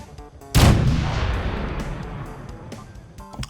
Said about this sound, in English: We tested the artillery.